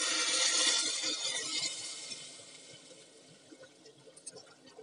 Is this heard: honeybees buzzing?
no